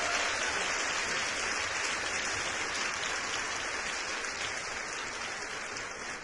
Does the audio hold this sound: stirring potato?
no